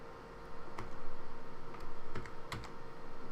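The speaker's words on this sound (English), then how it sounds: "we type in here." Typing on a computer keyboard: sparse, quiet keystrokes click unevenly, a few sharper taps standing out over a faint background hum.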